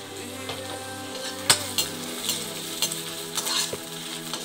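Onions sautéing in a pan for a spicy mushroom gravy, a continuous close sizzle broken by repeated stirring scrapes and sharp metallic clinks of a spoon against the pan, with no talking.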